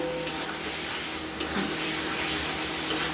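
Small fish stir-fried with green chillies in a pan, giving a continuous close sizzle with occasional scraping stirs and light utensil clinks, no talking.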